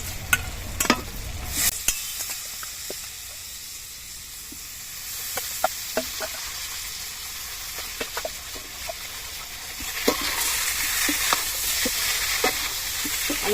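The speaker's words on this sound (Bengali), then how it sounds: "আলুটা দিয়ে একটু ভালো করে নেড়ে নিচ্ছি।" Potatoes fry in a pan for a Bengali fish curry with green mango, sizzling and hissing steadily while a spoon scrapes and taps the pan in irregular stirring strokes, close and continuous.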